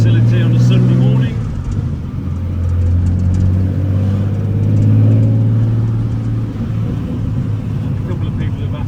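A TVR T350c 4.5 Supersport engine rumbles steadily while the car drives on a Sunday morning, a loud, continuous low drone that swells and eases with throttle, with a voice talking over it.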